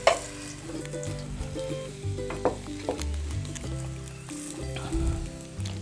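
Fish frying in a pan sizzles close by, with scattered clinks and scrapes of handling and faint background hum.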